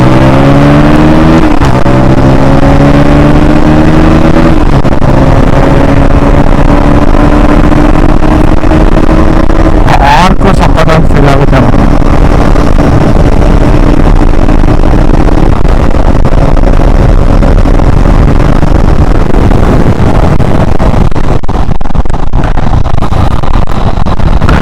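A KTM Duke 160 motorcycle engine runs loud and close, revving up and down through steady tones with a sharp burst of throttle midway, alone with no voices.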